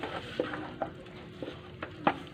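Pork pieces frying in a pan: a low, faint sizzle with a few light clinks and taps of a utensil against the pan, spaced irregularly.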